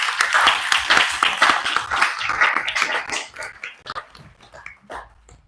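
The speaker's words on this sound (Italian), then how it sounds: "Facciamo veramente un altro bellissimo applauso" Audience applause at the Premio Civitas Vitae 2025 award ceremony: dense, close clapping that thins to scattered claps and fades out over the last couple of seconds.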